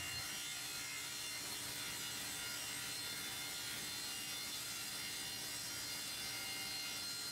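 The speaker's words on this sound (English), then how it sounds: "I usually take 4 or 5/4 stock and resaw it into 3 equal pieces." Hardwood stock of 4/4 or 5/4 thickness being resawn into thin laminates gives a steady, continuous sawing rasp with no pauses, close and moderately loud, with no voices.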